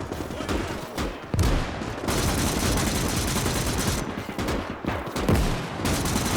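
Dense battle gunfire from a Gates of Hell Ostfront WWII battle at Fastov, with a Panzerjäger tank destroyer firing amid the fight. Continuous loud volleys and rattling shots overlap with heavy booms, with scattered voices.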